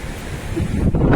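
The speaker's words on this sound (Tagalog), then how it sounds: "Mahangin talaga guys, mahangin." Strong typhoon wind by the sea roars steadily into the microphone along with crashing surf, loud and close, through a brief burst with no speech.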